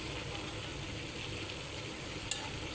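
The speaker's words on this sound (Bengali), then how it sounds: "চাইনিজ সবজি রান্না করতেছি" Chinese-style mixed vegetables with chicken being stir-fried in a pan, giving a steady low sizzle and stirring noise throughout, with one brief sharp clink near the end and no voices.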